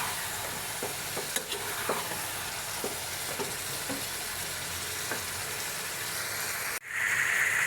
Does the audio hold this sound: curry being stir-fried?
yes